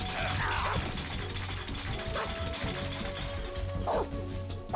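Dog barks and yips in the stealth video game Metal Gear Solid 3: Snake Eater, several short bursts over a dense, busy game soundscape with a steady low hum.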